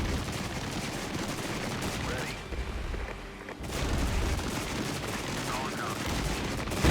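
Mortar rounds and gunfire in a Regiments battle, a steady dense rumble of impacts and distant shots running throughout, with a brief lull partway before the barrage picks up again.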